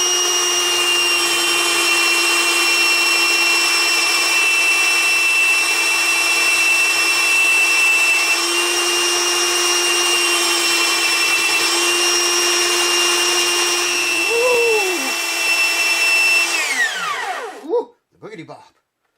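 A power tool grinds, or rather melts, the plastic saddle of an Epiphone FT130 acoustic guitar in one loud, steady, high-pitched whine. It holds for about 17 seconds, dips and shifts briefly near the end, then spins down and stops.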